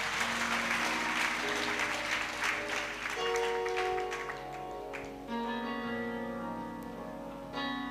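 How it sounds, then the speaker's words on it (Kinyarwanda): A church congregation clapping in praise, a few seconds of full applause that softens as sustained keyboard tones rise and carry on alone. "Komera Imana amashyi."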